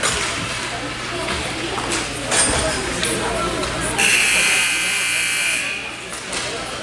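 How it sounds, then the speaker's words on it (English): A long, loud electronic buzzer sounds for about a second and a half in a youth 8U hockey rink at New Kensington during a jamboree, amid arena noise and someone talking before and after. "the buzzer's an encouraging sound."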